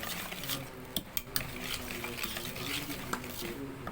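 A spoon stirs and beats eggless Cadbury tart batter with vanilla essence in a bowl, giving soft swishing and a few sharp clinks against the dish. It is fairly quiet, with faint background noise.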